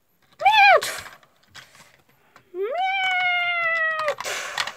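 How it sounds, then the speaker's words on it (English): A video game cat meows twice, first a short rising mew, then a longer drawn-out meow, each followed by a brief burst of noise. "Now I'm going to just stroke a kitty."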